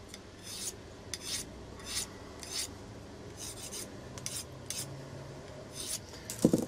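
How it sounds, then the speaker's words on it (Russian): Ceramic honing rod drawn along the edge of a Ganzo 704 folding knife to remove a burr, a series of quiet, short rasping strokes at an uneven pace, close by, with a brief clink at the end. "Берем керамический мусатик, убираем слегка заусенчик."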